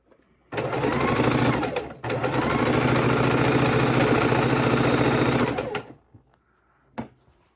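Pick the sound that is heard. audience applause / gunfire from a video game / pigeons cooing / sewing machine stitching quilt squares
sewing machine stitching quilt squares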